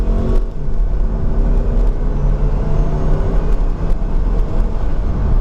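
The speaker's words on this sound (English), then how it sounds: "I love the way it sounds for a 4-cylinder with a turbo" A 2001 Saab 9-3 convertible with a turbocharged four-cylinder accelerates hard out of a turn, with wheel spin and a long second gear; a loud, steady engine drone and rumble fills the cabin throughout, with no talk.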